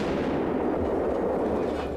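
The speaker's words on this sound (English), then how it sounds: "since GoldenEye is a Bond movie, this cast fires deadly missiles" Missiles launch from a leg cast in a James Bond GoldenEye scene, a dense, booming roar of rocket fire and blasts that stays loud and continuous throughout.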